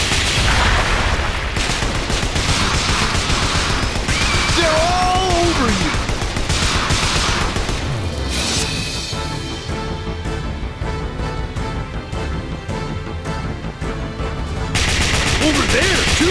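Loud, relentless bursts of gunfire rattle almost without pause in the arcade shooting game Lost Land Adventure, joined by booming hits and a brief quieter stretch before the shooting roars back.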